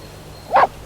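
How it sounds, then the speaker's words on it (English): A single dog bark, short and sharp, mid-distance, standing alone against quiet background in an audiobook sound effect. "Listen, is that your dog barking?"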